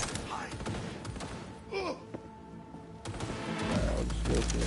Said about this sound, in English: Trying to shoot at me.